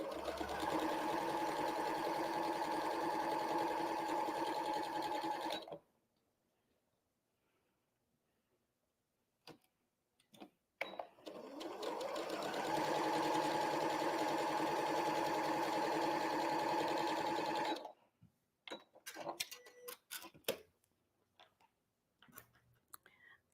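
A sewing machine chain piecing quilt pieces runs in two long steady buzzing stretches, broken by quiet gaps with faint clicks and handling of fabric, no talking.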